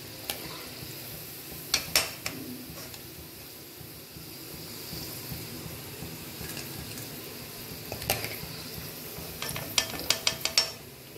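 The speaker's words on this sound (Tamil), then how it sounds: "இதே மாதிரி ஃப்ரை பண்ணிக்க போகிறேன்." Gobi 65 cauliflower fries in oil with a faint, steady sizzle, while occasional metallic clinks and scrapes of stirring stand out in short clusters.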